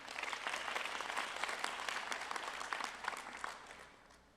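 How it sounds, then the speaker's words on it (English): An audience at a 2023 hospital resident award and graduation ceremony claps warmly in a dense burst of applause that fades out after about four seconds. "She deserves a round of applause."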